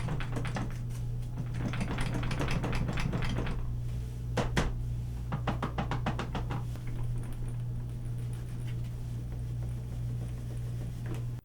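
An old office chair rattles and creaks in quick irregular bursts of clicks and knocks as it is moved about, close up, over a steady low hum.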